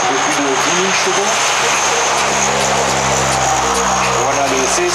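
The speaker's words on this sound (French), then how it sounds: "Voilà le C-160 Transal qui décolle devant vous pour une démonstration." A C-160 Transall military transport aircraft taking off at an airshow, a loud, steady turboprop drone with propeller hum and throbbing engine tones close by, with an announcer speaking over it.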